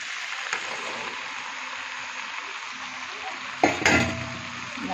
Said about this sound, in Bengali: এখন মটরটা আমি দিয়ে দিলাম।